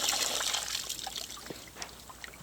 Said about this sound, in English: It's going to pour out like so.